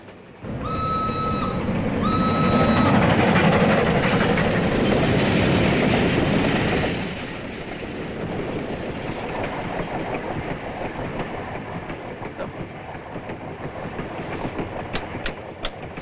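A European passenger train running on rails, with a loud steady rumble and clatter of wheels, two short tonal hoots at the start, and a quieter, continuous rolling sound after about seven seconds.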